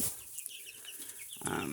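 Young chickens kept in a pen cluck and cheep softly, several brief calls scattered over a quiet background, ending in a louder burst of rustling.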